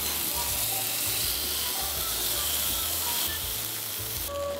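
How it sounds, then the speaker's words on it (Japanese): Beef for roast beef sears in a frying pan with a loud, steady, close sizzle that holds evenly throughout. "ではお肉入れていきます。 まずこれで3分焼きます。"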